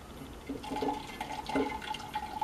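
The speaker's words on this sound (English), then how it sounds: "I'm losing a lot of my juice in the sink." Beet juice pouring and splashing into a kitchen sink, a steady liquid trickle with small bursts of splatter, fairly close, with no talking.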